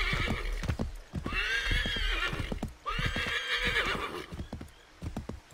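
A horse in Assassin's Creed III whinnies twice in long, loud, wavering neighs, with close, rhythmic hoof clops on the ground sounding before, between and after the calls.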